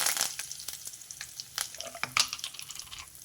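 Mustard seeds, cumin and curry leaves fry in hot oil for a jackfruit-seed curry, making a soft sizzle with scattered sharp pops and crackles and a few utensil clinks, fairly close.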